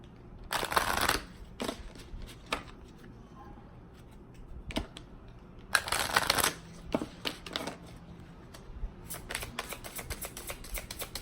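Tarot cards riffle and flutter in several loud bursts separated by softer tapping and handling sounds, close up, with no voices.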